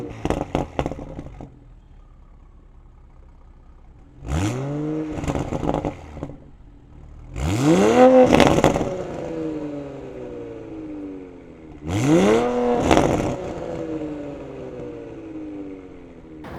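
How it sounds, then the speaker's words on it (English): Toyota A90 Supra on its stock exhaust with an Active AutoWorks catted downpipe, idling between three loud, close revs that sweep up and fall back, each followed by a steady idle. "a sound clip of a stock exhaust car with an Active AutoWorks catted downpipe"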